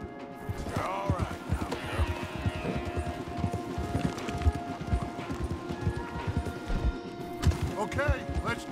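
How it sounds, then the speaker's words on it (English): Horse hooves clip-clop steadily on a trail in the Wild West game Red Dead Redemption 2, a close, continuous rhythmic beat with occasional snorts, carried under people talking throughout. "let's dismount here. We won't get the horses down this path."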